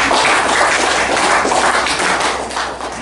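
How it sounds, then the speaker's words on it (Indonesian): Dense, loud audience applause at a regency official's public address in Keerom, a continuous wash of many hands clapping that eases slightly at the end. "Tepuk tangan dulu, kenapa diam-diam?"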